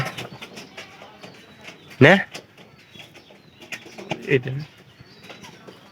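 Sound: pigeons cooing

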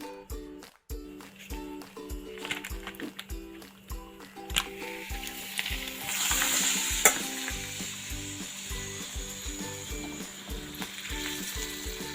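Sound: papadam frying in hot oil

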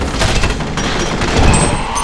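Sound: gunfire in the video game F.E.A.R

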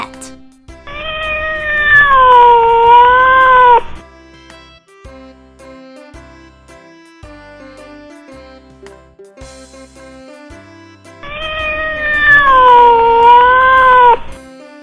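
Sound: cat meowing

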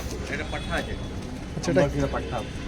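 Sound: pigeons cooing

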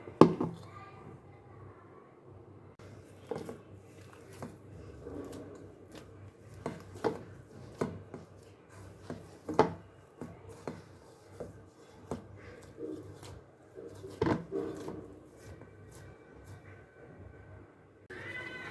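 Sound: kneading chapati dough by hand

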